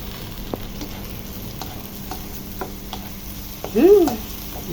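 A pan sizzles steadily as aromatics are sautéed for Filipino sopas (chicken macaroni soup) before carrots and hotdog go in. A brief louder scrape or clatter rises near the end.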